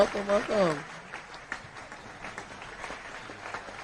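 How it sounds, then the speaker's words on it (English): A short burst of studio applause welcomes a podcast guest, starting with a brief voice and a cheer and then settling into a soft, steady patter of clapping under light room noise. "We're gonna bring you in with some applause."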